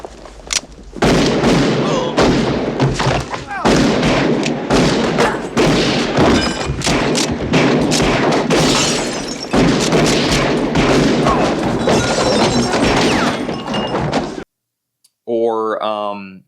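Old West revolver gunfight from the film Unforgiven: loud booming gunshots and heavy thuds burst irregularly over a dense, noisy soundtrack with talk mixed in, ending in a short break and then a brief voice.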